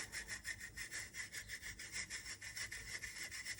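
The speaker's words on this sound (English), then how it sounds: "And just rub it through the grate." A hand pushes body powder mixture made with zinc oxide through a metal grate, giving a steady rhythmic rasping scrape, close and continuous, with no talking.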